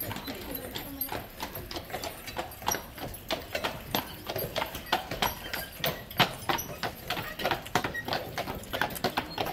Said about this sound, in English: look at these beautiful horses that are pulling the carriage for the Grand Hotel